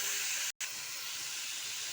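Boiled soybeans fry in a pan with a steady, close hiss. The sound cuts out for a split second, then resumes just as evenly.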